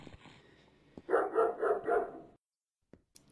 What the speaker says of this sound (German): Ich glaube, das Schaf braucht unsere Aufmerksamkeit. Es bellt vor sich hin